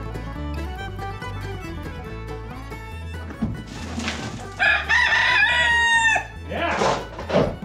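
A rooster crows loudly and close in a farm coop, rising over clucking chickens and some scattered thumps, with a person's voice briefly heard.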